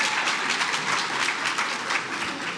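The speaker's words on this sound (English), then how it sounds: "it says here you were supposed to clap as well" An audience at a government awards ceremony claps in a brief, dense burst of applause, steady and fairly loud with no voices on top.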